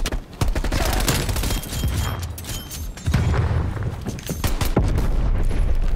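Dense gunfire in Call of Duty, with rapid bursts of shots and heavy booming impacts packed together, loud and close throughout.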